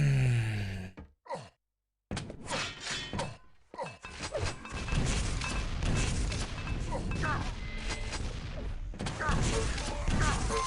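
Rocket explosions in a Quake Live duel thud and crackle in dense, overlapping bursts, loud booms layered over continuous game noise after a brief pause, with a sigh and gasping breath near the start.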